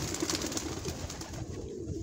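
A pigeon coos softly in low, rhythmic repeated calls, faint and close, over a steady background hiss.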